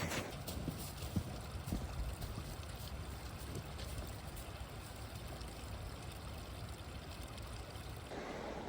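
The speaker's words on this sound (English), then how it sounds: "I hear a stream to the south over here." A stream flows steadily somewhere off to the side along a forest trail, a continuous soft rushing and trickling wash heard from a moderate distance in the cold, with no talk.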